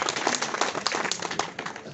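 An audience at a Nepali community event claps for Shivraj, producing steady, moderately loud scattered applause with dense overlapping hand claps throughout.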